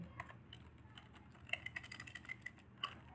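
Quiet, fairly fast typing on a computer keyboard while entering C# code, with irregular clusters of light key clicks and a few sharper taps, alone with no talk.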